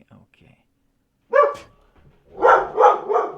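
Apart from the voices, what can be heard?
dog barking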